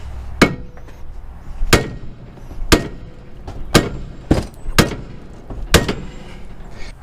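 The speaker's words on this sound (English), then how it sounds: "Everything you can do is take a hammer and hit." Six sharp metallic hammer strikes on a 2004-2013 Mazda 3 during transmission removal land about a second apart, each ringing briefly, with quiet room noise between them.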